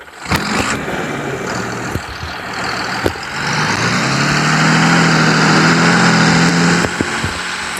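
A tractor engine idles in Farming Simulator 23, a steady mechanical rumble that thickens into a louder, deeper drone partway through, with a few sharp clicks scattered across it.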